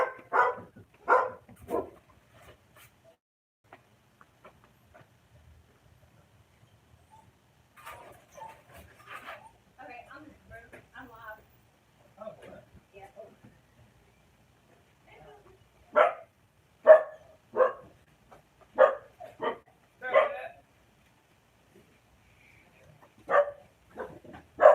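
Several dogs bark in scattered bursts at an indoor gathering, loud clustered yaps with whimpers between, spread over quiet gaps while people talk nearby.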